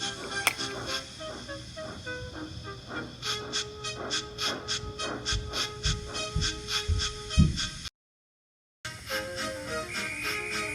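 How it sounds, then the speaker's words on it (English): Steady hissing of a toy wooden-railway steam locomotive scene letting off steam, with clanking and whistle-like tones, a brief dropout, then more hissing. "with much noise and blowing of steam,"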